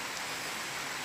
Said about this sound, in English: It's hailing out there